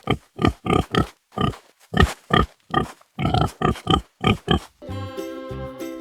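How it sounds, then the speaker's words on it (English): A cartoon-style pig in a children's animal video oinks in a quick series of loud, evenly spaced grunts, followed by a short burst of bright music at the end. "Oh, that's a pig."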